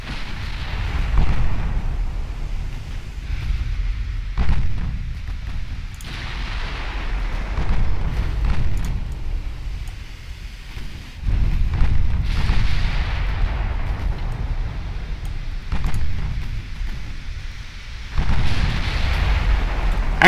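Naval gunfire from warships in the Ultimate Admiral Dreadnoughts game, with a light cruiser engaged: repeated deep booming salvos at intervals with rumbling decay, loud and alone.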